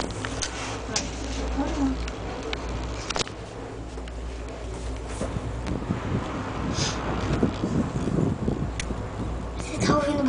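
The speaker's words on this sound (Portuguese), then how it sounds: "Você tá ouvindo barulho? É vento." Wind buffets the microphone with a constant low rumble and gusty noise, while people talk intermittently over it in Santa Catarina, Brazil.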